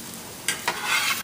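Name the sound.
French toast pan frying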